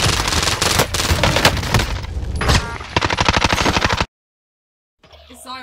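Rapid automatic gunfire from Call of Duty Warzone on Rebirth Island roars loud and close in sustained bursts, then cuts to silence, and a fainter sound returns at the end.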